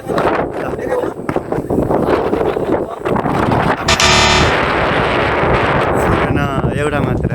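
Strong wind gusts buff and rumble against the microphone on an outdoor basketball court in Japan, loud and continuous, with voices talking over the blustery roar.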